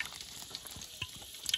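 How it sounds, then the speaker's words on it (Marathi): Spices for a Marathi phodni tempering crackle and sizzle in hot oil at a village birthday-party cookout, a faint, brief hiss with a few small pops and spits, no voices. "आता आमच्या फोडणी घालून दाखवतोय"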